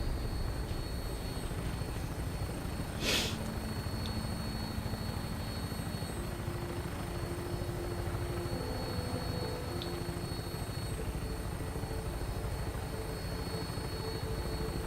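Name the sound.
aircraft taking off in Fallout 4 video game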